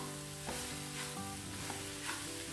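Soya granules stirred and roasted in a pan over a low flame give a soft, continuous sizzle with faint scraping from the stirring, quiet and steady with no voices.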